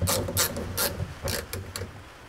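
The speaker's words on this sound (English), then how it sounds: "Now I can look and fit these screws into the very top part." Screws are driven into the top of a replacement window regulator mechanism inside a Ford Mondeo door, giving a series of close, scratchy ratcheting bursts in an uneven rhythm with short pauses between them.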